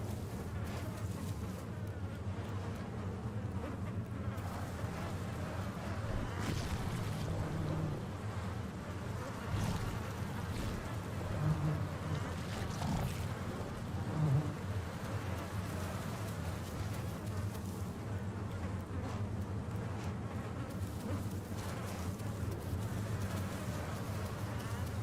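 Bees buzz in a dinosaur video game as a steady, continuous drone, blended into dense outdoor game ambience that stays at an even level throughout.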